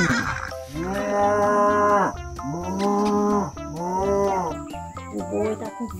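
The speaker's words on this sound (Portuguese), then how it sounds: "O boi tá com fome." A toy farm ox lets out three long, loud electronic moos in a row, each a sustained low bellow, over a steady high electronic tone with brief toy beeps between calls.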